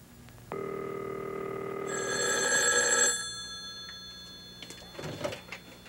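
An old telephone bell rings in a room during a call to grandmother amid a power outage: one long electronic ring that brightens midway, then stops, followed by faint handling clatter.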